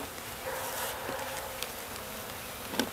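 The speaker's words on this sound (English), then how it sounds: "All the buzzing." Honey bees buzz around an open hive in a bee yard during a hive inspection, a steady dense hum with a few brief louder passes near the microphone and no voices.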